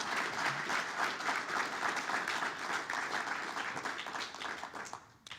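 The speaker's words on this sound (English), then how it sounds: "give another round of applause to Justin Hart." Warm, full applause from an audience at an alumni awards ceremony, a thick continuous patter of many hands that carries on steadily, then tapers off with a few last claps.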